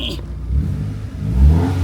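Proton Satria GTi car engine revving, a loud close mechanical roar that swells toward the end, with a voice talking over it.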